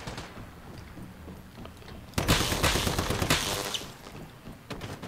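Gunfire aimed at the player character in the Once Human video game: a quiet stretch, then a loud, sustained burst of repeated shots from about two seconds on, fading slightly and ending in a few scattered bangs.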